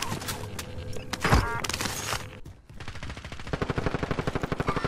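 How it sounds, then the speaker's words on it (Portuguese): Gunfire in the video game Call of Duty Warzone sounds as a burst of shots. A sharp blast is followed by a rapid rhythmic string of automatic fire near the end, mixed with game noise. "Meu Deus, que tiro."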